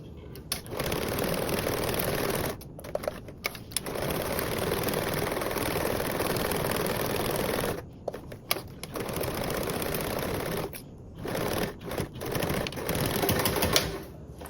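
A sewing machine bastes a pocket and D-ring connector in place with a 1/8 seam allowance, its close, steady whirring stitching running in long bursts broken by several short pauses.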